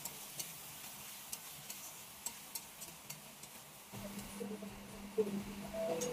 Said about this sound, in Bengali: দারুচিনি এলাচ যে পেস্টটা করেছিলাম সেটা দিয়ে দিতে হবে। এটাকেও কষাতে হবে।